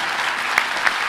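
Commencement audience at a college ceremony breaks into applause, a dense wash of clapping from a large crowd filling the brief moment.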